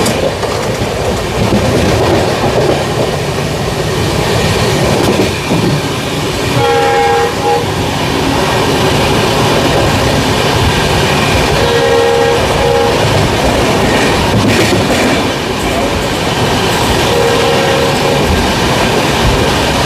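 A DEMU train runs on the rails near Alnavar junction, a continuous loud rumble with clickety-clack, and short two-tone horn blasts sound several times over the passing.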